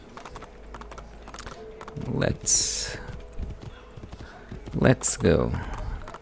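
Hooves of a horse in Assassin's Creed II, a few clopping bursts amid quiet game ambience, with someone talking briefly over them.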